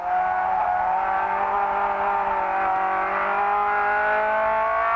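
A 1971 Ford Escort RS 1600 racing at Jarama, heard from inside the car as it brakes hard for a tight right-hander: a loud, steady engine drone with whining overtones that holds throughout, and no talk.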